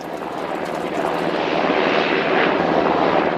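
Loud, steady helicopter rotor-engine roar that swells slightly over a few seconds, a low broadband drone filling the scene as it draws closer to an outpost in Afghanistan.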